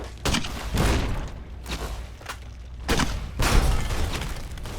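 Grenade explosions in Fallout New Vegas go off in a rapid string, about six loud broadband blasts in five seconds with crackling debris between them, the bursts overlapping into a dense, rumbling barrage.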